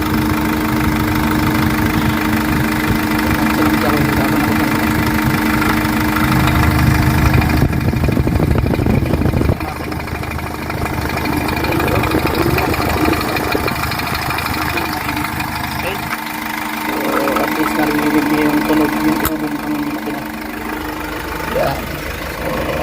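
Diesel engine of a Hyundai H100 idling steadily after being flushed with diesel fuel for oil sludge removal, a continuous close mechanical rumble with some knocking, under someone talking throughout.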